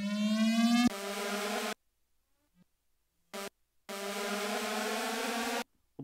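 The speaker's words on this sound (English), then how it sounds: "We'll bring in the 140 riser just so we have something on beat." A riser sound effect played from an Akai MPC One, a clean electronic tone sweeping upward with a steady buzz, cut into separate bursts with silent gaps between them.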